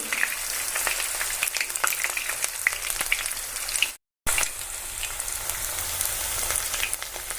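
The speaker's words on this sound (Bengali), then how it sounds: "বন্ধুরা এই যে আমাদের এরমভাবে এরমভাবে ডিপ ফ্রাই করে নেবেন আপনারা" Spiral tornado potatoes deep-fry in hot oil, a loud, dense, continuous sizzle with crackling pops close by that cuts out briefly near the middle and then resumes, with no one speaking.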